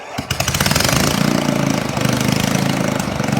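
Lawnmower engine fitted with five exhaust pipes runs loud and close, a rapid, rough, steady popping burble with a heavy low rumble that holds throughout after a quick start.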